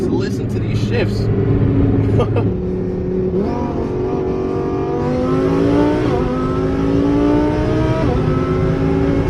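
Loud 1500 hp twin-turbo Lamborghini Huracan engine revving through quick gear shifts, pitch climbing and dropping several times from inside the car, with people talking over the engine.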